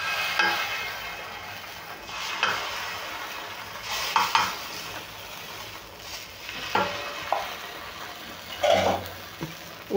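Uttapam batter poured onto a hot griddle sizzles softly, broken by scraping and clinking of a utensil against the pan at irregular intervals, with no voices.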